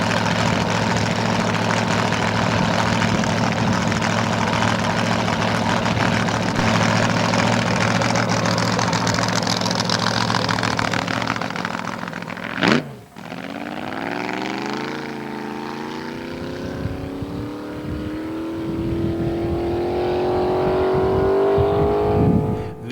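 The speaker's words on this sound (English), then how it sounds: "Here is the car at the 1998 Bonneville Speed Week." A roadster-class hot rod at the 1998 Bonneville Speed Week on the salt flats: a loud, steady engine rumble gives way to a sharp burst, then a rising roar as the car accelerates hard and pulls away.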